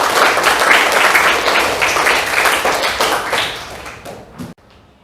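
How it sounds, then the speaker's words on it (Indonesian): Classroom applause from students, a loud burst of clapping that stays dense for about four seconds, then thins to a few scattered claps and a thump before stopping abruptly. "terima kasih, tepuk tangan untuk semua"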